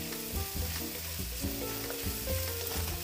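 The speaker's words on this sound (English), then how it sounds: "So we're just gonna saute these for a couple minutes" Vegetables for a harissa pasta sauté over medium heat in a pan, giving a continuous close sizzle and crackle with a low steady hum underneath and no speech.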